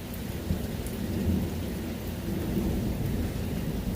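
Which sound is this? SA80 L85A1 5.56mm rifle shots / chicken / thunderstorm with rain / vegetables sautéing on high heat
thunderstorm with rain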